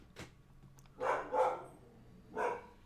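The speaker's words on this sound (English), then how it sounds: "That's my dog. Probably sees a horse." A dog barks three times nearby, two quick barks followed by a single later one, after a faint click, over a quiet indoor background with no talk.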